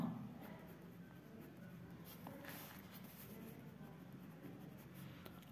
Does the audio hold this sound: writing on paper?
yes